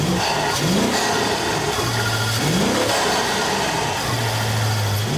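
A car engine revs repeatedly, three rising surges of pitch separated by idling stretches, close and loud with no one talking.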